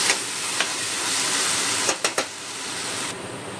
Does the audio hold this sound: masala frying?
yes